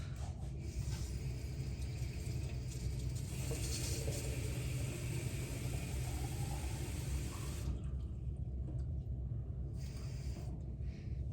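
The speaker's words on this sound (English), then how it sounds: "So I'm just gonna fill this up with water" Tap water runs steadily into a bottle, a constant close rushing hiss that shifts in tone partway through and then thins toward the end.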